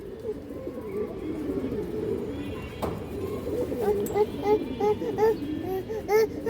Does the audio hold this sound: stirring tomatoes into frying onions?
no